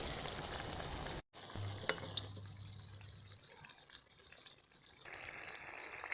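Eggplant fritters (beguni) coated in batter with rice flour fry in hot oil, giving a steady soft sizzle with a sharp clatter near the start and faint handling noises, heard close without talking.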